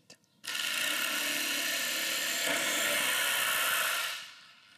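A Festool Carvex PS 420 jigsaw starts up and runs steadily for about four seconds with a bright, high-pitched mechanical whine, close and loud, then winds down.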